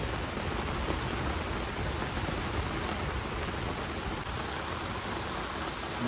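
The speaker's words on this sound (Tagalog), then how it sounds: "Maulan." Dense, steady downpour drums on a camping tent, a constant broadband hiss of rain with faint distant thunder hints beneath and no talking.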